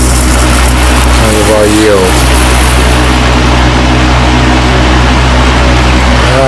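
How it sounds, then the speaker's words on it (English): A laboratory fume hood fan runs steadily, a loud continuous broadband roar with a low hum, while a person talks over it. "Sorry about the noise. Got the fume hood going."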